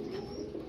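Domestic pigeons kept at a pigeon seller's loft give a soft, low, continuous cooing, close and steady through a very short moment.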